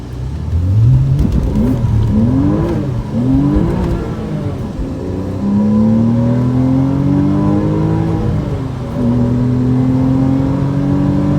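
A Porsche Cayman engine revs hard while being driven, with rising and falling rev sweeps and gear changes building to sustained high revs, loud and close throughout with no talk.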